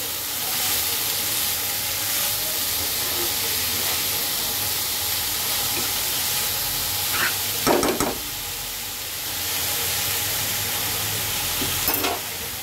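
Onion and garlic sizzle steadily in a pan while being stirred at the start of a radish-greens fry, a continuous close hiss broken by a few sharp spatula scrapes near the end.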